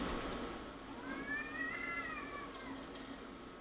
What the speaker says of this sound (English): There's some cats fucking something up outside.